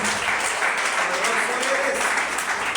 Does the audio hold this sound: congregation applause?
yes